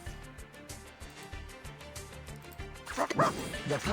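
A puppy yips and barks in the video game Reverse: 1999, over steady rhythmic game music, with a louder flurry of sound near the end.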